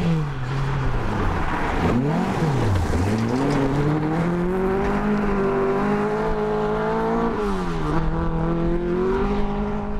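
Historic Volvo rally car in the RAC Championship pulling away on a forest rally stage, its engine revving loud and close with rising and falling pitch through gear changes, continuous and unbroken for the whole stretch.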